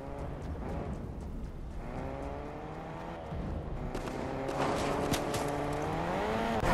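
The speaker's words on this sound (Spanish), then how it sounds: "No, escucho el coche, pero no lo he visto." Car engine in the Fortnite video game, a steady revving drone with rising and falling pitch that grows louder toward the end, with no speech over it.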